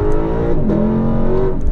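A 2023 Lexus LC500 pulls away from a start, its engine rising in a loud, continuous rev heard from inside or close by, with no talking.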